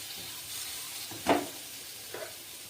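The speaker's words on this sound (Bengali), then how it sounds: "দেখুন মশলাটা ভালোভাবে কষানো হয়ে গেছে" Spice paste frying in a pan for a Bengali shukto, giving a soft steady sizzle with one sharper stirring scrape in the middle and a fainter one shortly after, close and fairly quiet.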